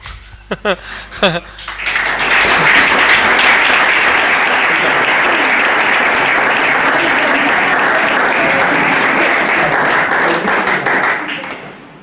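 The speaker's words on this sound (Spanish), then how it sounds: "Otro aplauso para él." A lecture audience breaks into sustained, loud applause after a talk, building quickly after a few isolated claps and holding steady for about nine seconds before tapering off.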